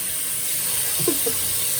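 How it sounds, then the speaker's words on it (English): Crochet hair pieces rinsed one at a time under a running tap, a steady close hiss of water with brief splashy bursts as a piece passes through the stream. "So I'm just taking each piece, rinsing it off."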